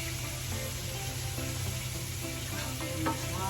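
Sauce thinned with a little water bubbles in a pan on the stove, a continuous close sizzling and popping with no talk.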